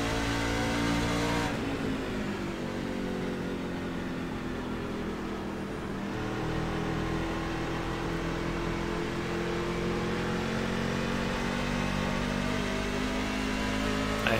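Engines roar and whine continuously as pickup trucks race in iRacing at New Hampshire, pitch rising and dipping with gear changes, a dense steady motor noise with no talking.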